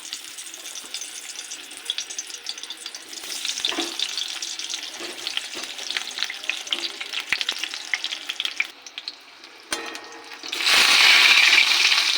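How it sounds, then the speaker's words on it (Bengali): Eggplant slices dusted with flour crackle and sizzle in hot oil, a close, busy frying sound that ends in a burst of running tap water. "বেগুন তেল গরম হয়ে গেছে এবার তেলে দিয়ে দেবো"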